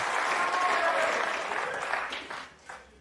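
Applause from a snooker crowd during O'Sullivan vs Trump at the World Grand Prix, a dense sustained clapping that swells loud at first and then gradually thins and fades.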